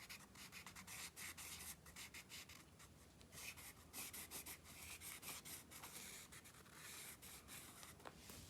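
The chisel point of an alcohol marker rubbing across paper in broad coloring strokes, a faint, close, scratchy swishing that repeats in quick back-and-forth bursts with no voice.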